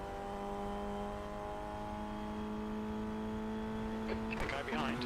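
Race car at speed on a lap of Okayama circuit, a loud steady engine drone with a constant pitch, continuous throughout, with a driver's voice briefly at the end.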